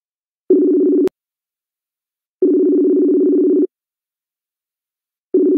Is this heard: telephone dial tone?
yes